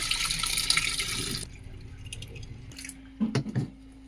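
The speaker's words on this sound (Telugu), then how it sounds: "ఫస్ట్ అయితే చికెన్ని టూ టు త్రీ టైమ్స్ అయితే వాష్ చేసుకుందాం" Raw chicken being washed with water in a bowl, a rushing tap-like wash at first, then quieter wet squishing and a few sharp splashy handling sounds close by.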